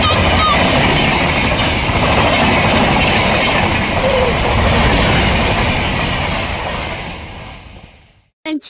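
A Vande Bharat express train passes close by on a railway track, a loud continuous roaring rush that holds for about seven seconds and then fades away.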